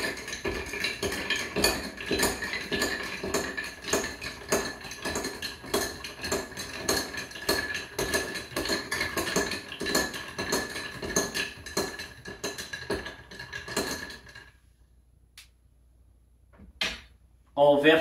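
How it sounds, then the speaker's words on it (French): Bar spoon stirring Blue Eclipse cocktail ingredients, including a dash or two of Angostura bitters, in a mixing glass: a fast, steady run of light clinks and scrapes for several seconds, stopping abruptly before a couple of isolated taps. "Avec ma cuillère à mélanger, je viens mélanger mes ingrédients."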